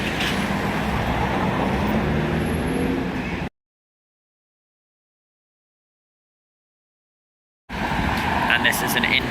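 A Bristol service bus passes nearby with steady engine and road roar, broken by a stretch of dead silence before the traffic noise resumes.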